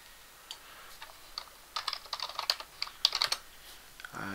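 Fingers tap out a short command on a computer keyboard, a quick, close burst of clicky keystrokes with a few scattered presses before and a heavier key at the end.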